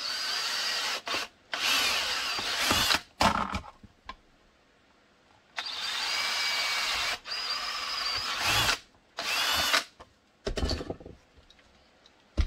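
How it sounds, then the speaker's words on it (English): Power drill boring holes through a Glock 19 IWB holster in repeated close, loud bursts of whining drilling, separated by short pauses. "And then go ahead and drill the other holes."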